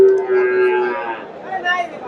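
A Friesian bull at a cattle market gives one loud, close, drawn-out moo lasting about a second, then trails off into faint market background.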